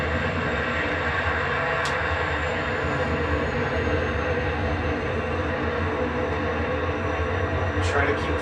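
MiG-15 jet taxiing on pavement, heard from inside as a steady, loud engine rumble and whine that continues throughout, with faint clicks.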